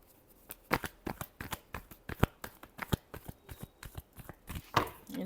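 A deck of tarot cards is shuffled steadily, giving a rapid run of crisp riffling snaps and flutters that come close and clear, with no talking over them.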